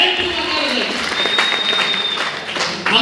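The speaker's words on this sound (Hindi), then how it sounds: "जोरदार ताली होनी चाहिए भाई, वीडियो जोरदार ताली" Steady audience applause fills a network marketing training seminar, a dense, even wash of clapping with a voice talking over it throughout.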